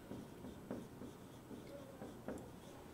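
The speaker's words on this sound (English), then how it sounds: "I'll write that" Faint, soft strokes of writing on a board during a lesson, a few quiet scratchy marks in irregular bursts over low room hiss.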